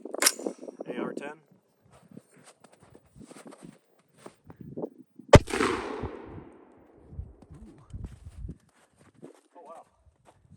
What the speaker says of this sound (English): 308 out of a side charging